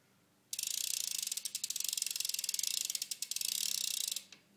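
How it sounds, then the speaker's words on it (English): Odyssey v3 cassette hub on a bicycle wheel clicking rapidly as the wheel spins freely, a dense steady ratchet buzz for several seconds that slows briefly and then stops, close and alone. "And here's a hub noise of it."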